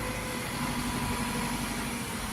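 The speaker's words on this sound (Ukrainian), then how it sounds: "От такий тракторець з примусовою навіскою 404." A Jinma 404 tractor engine runs at a steady idle, a close, even mid-pitched hum with a faint tonal whine and no change in pace.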